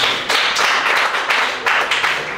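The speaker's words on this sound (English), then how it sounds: "applause." A stand-up comedy audience breaks into brief, bright applause, a few quick bursts of clapping that swell and fade over a couple of seconds.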